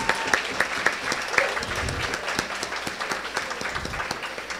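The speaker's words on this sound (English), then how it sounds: "Let's give a warm applause again to our dancers from Palestine." Steady applause from an audience, a dense wash of many hands clapping that holds evenly throughout, with a few sharper claps standing out.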